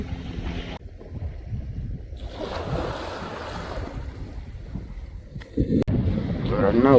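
A fishing boat heads out to sea, with ocean waves, wind buffeting the microphone and water splashing against the hull, rising and falling through the clip, with talking over parts of it.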